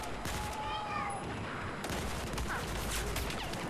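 Rapid gunfire bursts in a first-person shooter video game, dense and continuous across the whole stretch, with faint game sounds mixed in.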